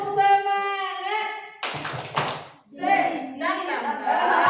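Classroom group clapping game called tepuk semangat, with a voice chanting before a couple of sharp bursts of clapped hands, then children's voices chanting between claps, close and lively.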